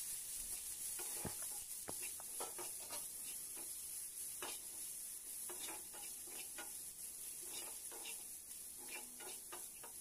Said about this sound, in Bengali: বাদামগুলো দেওয়ার পরে আরও কিছুক্ষণ নেড়ে চেড়ে ভেজে নিতে হবে